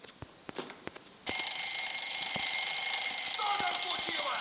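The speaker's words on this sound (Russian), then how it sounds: "Заводим будильник, то есть переводим будильник." Alarm clock ringing inside a video game, a sudden continuous shrill electronic bell that starts partway in and holds steady and fairly loud, after a few faint clicks and knocks.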